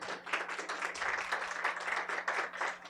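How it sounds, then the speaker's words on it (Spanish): Audience applause at a Latin American conference session on childhood at risk and crises, steady dense clapping from a hall crowd for a panel, moderately loud and continuous throughout without speech. "démosles primero un aplauso, por favor, a nuestros panelistas"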